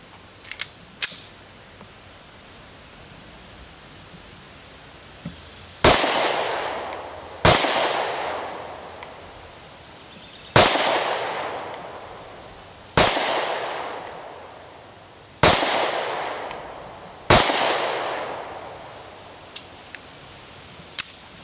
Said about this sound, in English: let's shoot a few rounds down range, see how it feels